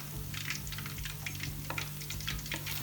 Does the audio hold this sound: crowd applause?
no